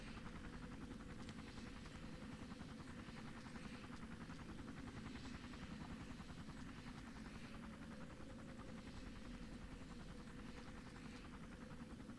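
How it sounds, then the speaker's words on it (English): A helicopter hovers overhead in Far Cry, a steady, even rotor and engine drone that continues without a break throughout, with no speech over it. "the damn helicopter that won't leave?"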